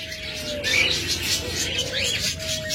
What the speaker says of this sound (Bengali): যেগুলো আপনার অলরেডি মেটিং কল দিচ্ছে